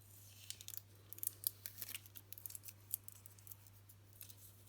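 Adhesive tape is peeled off a craft project in a run of soft, crackling bursts, quiet and close over a steady low hum.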